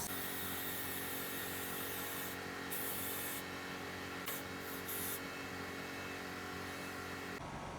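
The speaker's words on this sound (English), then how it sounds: "I'll be spraying my Got2b freeze spray all over my head" Got2b Freeze hair spray hissing in a steady continuous spray over someone's head, with short bursts layered on top, close and fairly quiet, with no talking.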